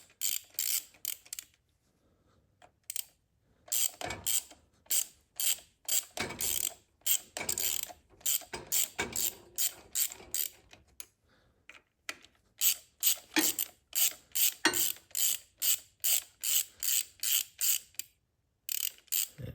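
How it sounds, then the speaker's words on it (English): Ratchet clicking in repeated bursts as Allen ball head bits undo bolts while fitting a Rekluse slave cylinder on a 2018 Harley-Davidson Road Glide Special, close and loud, with short pauses between runs. "we're gonna take Allen ball head bits and just undo this"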